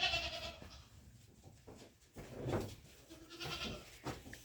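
Goats bleat intermittently at feeding time, several overlapping calls rising and fading at moderate distance amid light rustling.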